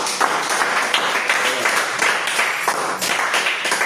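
A church congregation applauds and acclaims the Lord together, a steady dense wash of clapping and voices lasting throughout, fairly loud and close.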